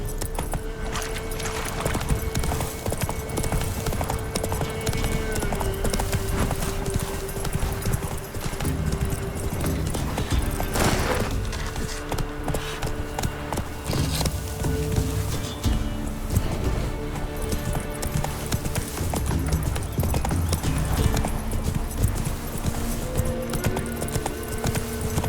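Hooves of a galloping horse in the video game The Witcher 3 drum in a continuous rapid clip-clop, close and steady throughout, layered with dense game ambience and jingling tack.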